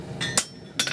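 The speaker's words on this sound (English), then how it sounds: "when they are hitting down, they press the hammer and then they have to raise it from zero" Two sharp hammer blows on metal, spaced about half a second apart, ringing briefly with a bright metallic tone, close and loud, during blacksmith hammer-control work.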